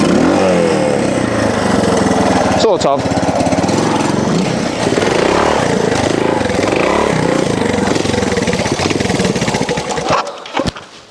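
A Honda TLR classic trials motorcycle engine runs loud and close throughout, a rough, steady buzzing drone with small revs, briefly cut by a clatter, with a voice speaking over it before it fades at the end.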